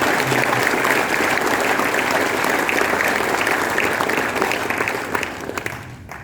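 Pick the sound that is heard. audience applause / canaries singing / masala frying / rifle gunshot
audience applause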